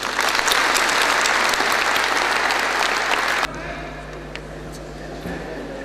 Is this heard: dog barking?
no